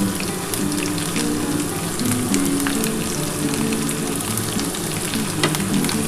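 Chopped onion frying in oil for a Bengali curry of hilsa fish head with taro, potato and eggplant: a steady, dense sizzle with crackling pops, close and continuous, no talking.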